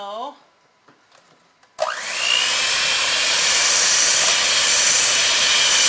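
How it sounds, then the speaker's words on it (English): After a few quiet clicks, a loud, steady hiss of steam from a double boiler bursts in and continues, with a faint rising whistle at the start. "I can tell it's starting to steam"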